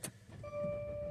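A 2018 Mercedes-Benz GLC 300 with a cold-start fault briefly cranks, then catches. A steady idle and a thin electronic whine settle in, close by.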